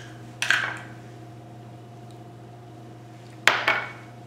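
An egg is cracked against a bowl and added to flour for fresh pasta dough, giving two sharp, close knocks about three seconds apart over a steady low room hum, with no talking.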